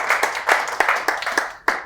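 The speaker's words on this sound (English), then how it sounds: "Let's give them a hand of applause" Applause from a small audience after a conference panel, a few seconds of scattered, uneven clapping with distinct individual claps close by.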